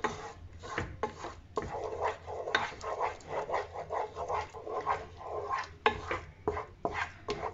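Flour being stirred into melted butter in a pan over low flame, heard as steady scraping and rubbing of a spoon against the pan, with intermittent knocks and clinks, close and moderately loud, without talking.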